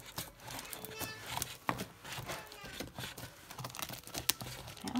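Packing tape pulled off and crumpled while a package is unboxed, giving irregular close crinkles and ripping bursts over several seconds with faint background talk.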